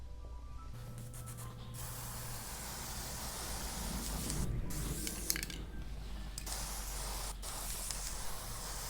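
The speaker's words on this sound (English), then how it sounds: "Now I'm going to go ahead and seal it in with the clear matte polyacrylic" Clear matte polyacrylic sealer sprays from a can in a steady close hiss lasting the whole stretch, with faint clicks and small shifts in intensity, no talking.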